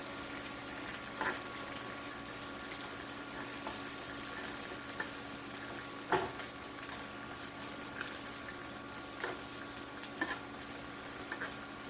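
Onions sizzle and fry in a pan with a steady crackling hiss, broken by a few soft clinks and stirring sounds.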